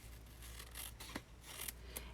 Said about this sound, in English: just cut off the extra Designer Series paper